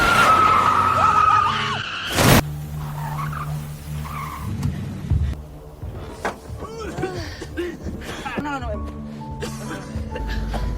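Car tires squeal in a long skid as a car nearly collides with a truck, followed by a crash-like thump and scattered knocks, with dramatic film sound and voices afterward.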